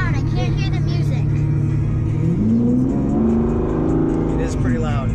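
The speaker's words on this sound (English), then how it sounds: "The car's too loud." A loud engine drones inside the cabin of a V12 Aston Martin, a steady heavy hum that rises in pitch as it accelerates, with people talking over it.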